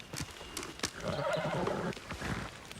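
A horse whinnies loudly and close by, a quavering neigh lasting about a second, with hoof clops and rustling around it.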